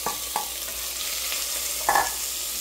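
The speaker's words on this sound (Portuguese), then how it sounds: "Agora vamos esperar essa carne ela dourar." Beef browns in a pan over already-golden onion and garlic, a constant close sizzle broken by a few soft stirring clinks and scrapes.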